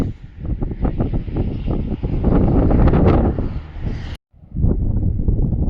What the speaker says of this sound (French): dehors, il y a un vent de dingue